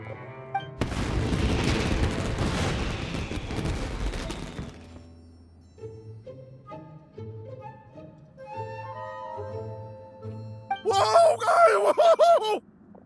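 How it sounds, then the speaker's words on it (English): Fireworks burst in a Genshin Impact game scene: a dense, loud crackling roar of explosions for about four seconds, followed by game music and a bright whistling sparkle near the end. "YOIMIYA, this is turning into a bit of a fireworks display"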